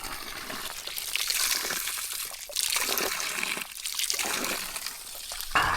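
Cold mountain spring water runs from a pipe on a hiking trail up Mount Lawu, a continuous close splashing trickle that surges and dips unevenly, with no talking.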